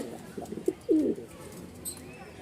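Pigeons at a pigeon seller's in Mirpur-1, Dhaka, give a few short, soft, throaty coos close by, with faint room noise and a brief high chirp near the end.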